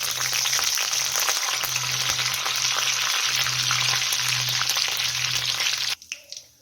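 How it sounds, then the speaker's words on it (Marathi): Cumin, mustard seeds and curry leaves crackle and sizzle in hot oil for a masala eggplant gravy, a loud, steady close-up frying hiss that cuts off sharply near the end, leaving a few faint clinks. "आपलं तेल गरम झालेलं आहे जिरे मोरी टाकून घेतलेलं आहे सोबत कढीपत्ता टाकून घेऊ"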